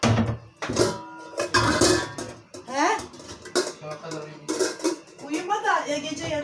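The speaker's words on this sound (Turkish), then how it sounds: "Şu tencerelerimi yerleştireyim bir." Metal pots and lids clatter and clang repeatedly as they are stacked and put away in a kitchen nearby, with a voice talking intermittently over the clanking.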